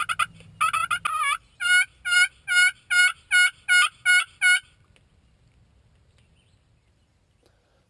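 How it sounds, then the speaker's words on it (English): A wild turkey lets out a rapid, loud gobble in a field, a quick series of rattling bursts close by, then the sound drops away to quiet. "you hear one of those rock star gobbles"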